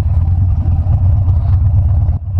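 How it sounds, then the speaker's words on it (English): Harley-Davidson 2015 Dyna Street Bob with Vance & Hines exhaust, a Hard Candy Customs build, gives a loud, steady low rumble close by throughout, with a brief dip near the end. "The Vance Hines, it's that nice, it just makes it sound like a motorcycle."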